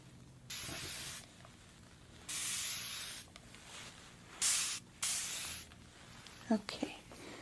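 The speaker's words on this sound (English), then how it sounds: "a little mist of this that is gonna freshen up your scalp" A spray bottle mists water onto a scalp in several short, close hissing bursts, with quiet pauses between them and faint soft handling sounds.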